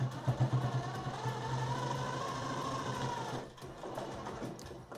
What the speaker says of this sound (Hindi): एक एक सिलाई लगा के देखते हैं, ये इस प्रकार से ज्वाइंट करना है।